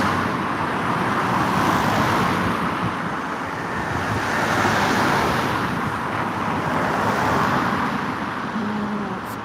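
Steady roar of busy rush-hour road traffic on a UK street, cars passing continuously close by with a constant wash of engine and tyre noise and some wind across the microphone.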